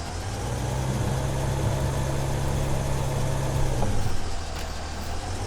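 A John Deere tractor engine idles steadily in Farming Simulator 2015, a continuous low rumble at constant level that dips slightly near the end.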